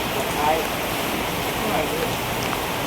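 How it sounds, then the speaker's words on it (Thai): Rain falls steadily outdoors during a sudden downpour, a constant broadband hiss of drops with no distinct individual hits, moderately loud and unbroken for the whole stretch. "ไปหลบฝนก่อน"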